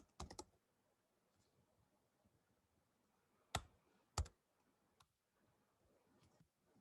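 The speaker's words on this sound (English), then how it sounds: "I'm typing in the chat." Keys on a computer keyboard clack in a few short bursts, a quick cluster at the start then isolated sharp clicks, fairly quiet and alone with no talking.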